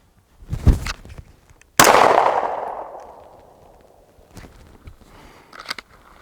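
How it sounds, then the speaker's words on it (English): A single loud, sharp gunshot with Federal HST ammunition fired at body armor from five yards, a hard crack followed by a long, decaying outdoor echo, preceded and trailed by softer handling clunks and footsteps. "Right here, I'm just gonna do 1 shot first from 5 yards."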